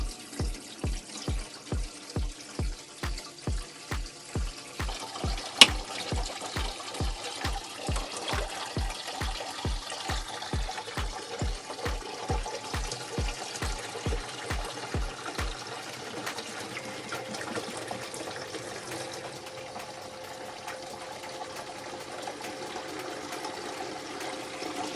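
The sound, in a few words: filling camper van water tank with water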